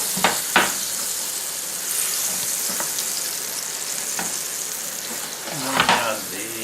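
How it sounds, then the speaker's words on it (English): Butter melts and sizzles in a flat-bottom pan, a close, even frying hiss with a few sharp clinks and scrapes of a utensil against the metal. "So add the butter. to a flat bottom pan,"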